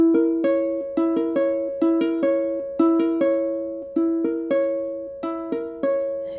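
Diminished chords played on a piano as ear-training examples, struck repeatedly in a steady rhythm with each strike decaying between them, close and clear with no talking.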